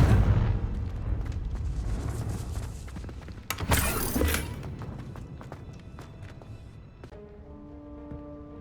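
The Confringo blasting spell goes off in the video game Hogwarts Legacy with a loud, crackling burst of explosion over a deep rumble, then tails off into softer game ambience and faint tones.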